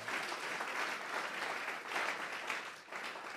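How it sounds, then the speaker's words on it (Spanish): Church congregation applauds together, a steady, dense round of clapping that stays fairly loud and even, then dips slightly near the end. "Jesucristo, vamos a regalarle ofrenda de palmas al Dios de la gloria"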